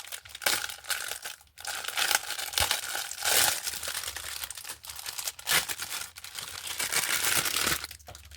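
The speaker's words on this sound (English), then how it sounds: "I'm just going to rip this bag all the way down." A plastic bag from an Amazon or Temu parcel of silicone molds being torn open, with bursts of crinkling and ripping in irregular waves close up, no voices.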